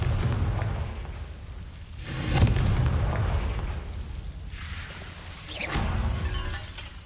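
Two Confringo fire-blast spells in Hogwarts Legacy, each a loud booming burst with shattering crackle that swells and slowly decays, the second landing a few seconds after the first.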